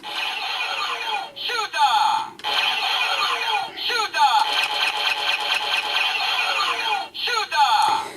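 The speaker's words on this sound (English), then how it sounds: "if you pull the trigger here, you get the shooter mode" A DX Zenrin Shooter toy from Kamen Rider Drive fires in shooter mode, giving loud, close electronic bursts of squealing tones and voice-like announcements in several repeated blasts separated by short pauses.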